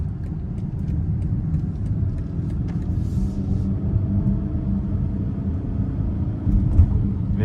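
A 2025 BMW X5 M60i in Sport Plus mode accelerates onto an interstate, its engine a deep, steady rumble heard from inside the cabin with road noise and no talk.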